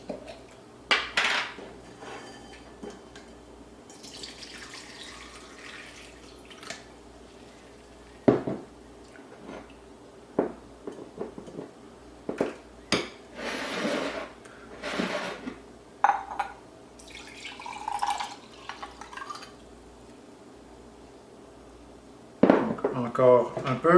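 Fermented ginger bug for ginger beer being strained through a sieve, with scattered clinks of a utensil against a bowl, dripping and sloshing liquid, and brief bursts of speech between the kitchen sounds.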